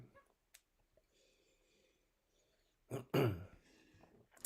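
A man in a home setting clears his throat and coughs in a short burst after a quiet stretch, close and fairly loud against faint background noise.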